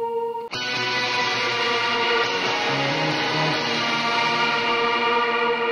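Electric guitar played through a Quad Cortex with light drive and reverb, ringing low-register notes and chords that sustain into a wide, echoing wash, loud and continuous with no talking.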